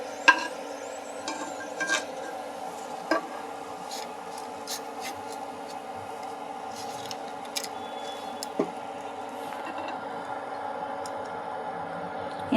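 Chopped onions and cardamom sauté in a pan for raw jackfruit biryani, a faint, quiet sizzle with soft stirring and occasional sharp clinks of the spoon against the vessel.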